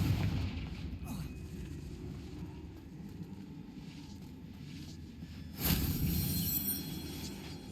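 Confringo fire spell exploding in Hogwarts Legacy, a sharp loud blast late in the clip rising out of a constant rumbling game soundscape.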